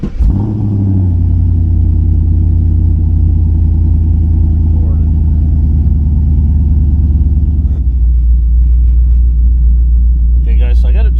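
A car engine fitted with larger DeatschWerks injectors fires up and settles into a loud, steady idle close by. The deep drone holds for about eleven seconds with a slight shift near the end, and a short voice cuts in briefly.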